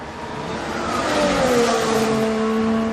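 A Formula 1 race car engine during 2022 Abu Dhabi free practice screams loudly, its pitch climbing and then settling as the car powers past, with no talk over it.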